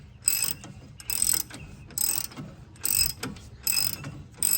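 A ratchet wrench tightens bolts on a leveling kit for a second-generation Dodge Ram 1500, giving rapid clicking bursts in about five rhythmic strokes, close and clear with faint handling noise between them.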